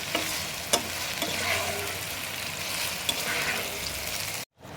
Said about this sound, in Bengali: মিডিয়াম আঁচে করলে চিকেনটা ভালোভাবে রান্না হবে